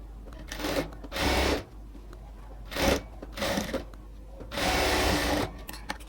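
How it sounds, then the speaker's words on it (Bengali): A sewing machine runs in about five short bursts of rapid stitching, double-sewing the shoulder seam of a dress made from a sari, with brief quiet gaps between runs. "এবার ডাবল সেলাই দিয়ে নিচ্ছি।"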